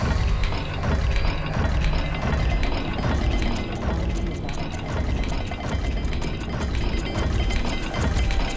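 A symbol-matching mechanism unlocks in Hogwarts Legacy with a dense, continuous ratcheting of grinding gears and clicking stone parts, loud and close, sustained throughout without pause.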